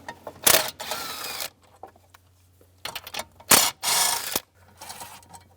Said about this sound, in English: Take these 2 nuts off,